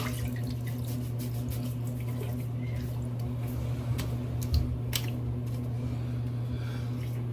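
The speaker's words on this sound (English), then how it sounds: "let's rinse" Running water rinses after a shave at a sink, a steady faint splashing flow with a low constant hum beneath it and a few soft clicks and drips, and no voices.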